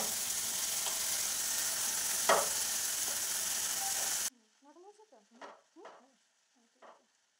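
Tomato and spinach mixture for palak paneer being stirred in a frying pan, a steady broadband sizzle with one sharp scrape midway, then cutting to a quiet stretch where a voice speaks over faint pan sounds.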